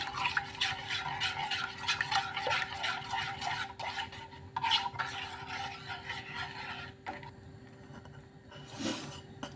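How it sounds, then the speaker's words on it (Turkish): Cherry sauce being stirred in a pot, a spoon rasping and scraping against the bottom in repeated close strokes, steady then briefly quieter near the end. "kıvamadan kadar karıştırıyorum"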